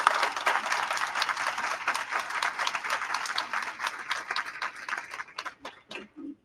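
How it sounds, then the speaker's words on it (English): Round of applause from attendees at a school board meeting, many hands clapping steadily at moderate level before thinning into a few scattered final claps. "So I want to take this time now to give you a big round of applause."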